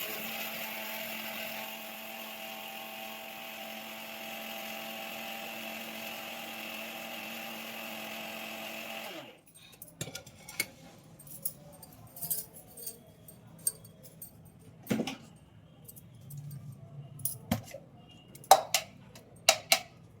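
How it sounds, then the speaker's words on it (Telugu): A kitchen mixer grinder grinds a dry sesame-cake spice powder with a steady, droning motor whine for about nine seconds. It then cuts off, leaving quieter clicks and clatter as the jar is handled. "ఇదంతా ఇప్పుడు మనం ఏం చేయాలంటే మిక్సీ పట్టేయడమే."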